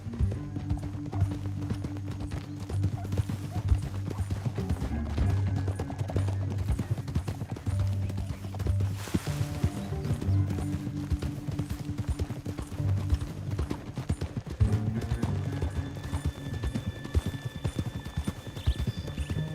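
Horse hooves clip-clop at a steady riding pace in Red Dead Redemption II, a soft rhythmic patter under low game ambience with faint rumbling and distant noises.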